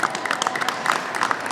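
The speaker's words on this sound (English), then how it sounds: "I've got to have a round of applause for just that" A crowd at a political event applauds in a brief, steady burst of many hands clapping, fairly loud and close, with no voices standing out.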